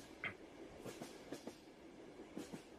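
Railway carriage in the game Express Numéro 8 rolling along the track, a low steady rumble broken by faint rhythmic clacks and a brief high squeal near the start, heard at a moderate distance with no talking.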